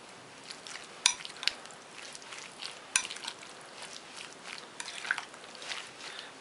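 Radish for a Korean beef-and-radish soup fries in a pot, a soft continuous sizzle broken by sharp clinks and scrapes of a utensil stirring, with no speech.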